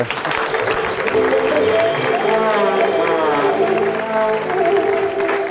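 An audience applauds a stage magician on an Ethiopian talk show, with clapping and cheering that fill the whole stretch and voices talking over the crowd.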